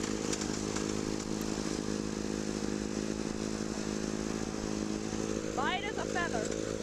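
A small two-stroke engine in a video game drones steadily like a weed whacker, a buzzy chainsaw-like whine that stays constant throughout while a person talks over it.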